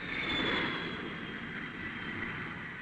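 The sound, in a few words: Air France Caravelle airliner approaching the runway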